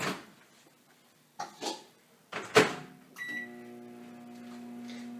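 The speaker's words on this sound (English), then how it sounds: "we're going to microwave this until it can be stirred smooth" A microwave oven heating butter or margarine for puppy chow: a few sharp clicks and thumps from the door and keypad, then a steady, even electric hum with a faint whine that carries on alone.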